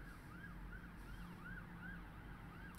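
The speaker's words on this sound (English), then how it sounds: "actually gets drowned out by a police car" A police car siren wails outside in a steady rising and falling cycle, distant and muffled beneath a low background hum.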